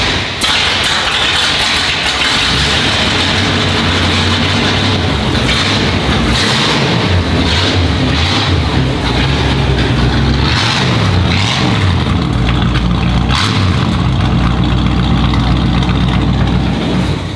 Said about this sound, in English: I want to start it up because it doesn't sound like a normal pickup truck.